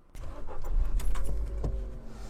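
Keys jangle, then a car engine cranks and catches, settling into a steady close idle.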